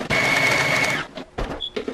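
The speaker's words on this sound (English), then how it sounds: "I'm just going to put them in a food processor." A food processor whirring as it chops roasted nuts for Turkish-style baklava, one loud close burst of about a second, then a few short pulses and rattles.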